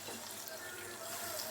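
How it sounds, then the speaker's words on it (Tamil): Water runs steadily from a tap into a mixture for a mango recipe, a continuous, even splashing hiss heard close and alone. "அப்புறம் வந்து தேவையான அளவு தண்ணி ஆட் பண்ணிக்கோங்க."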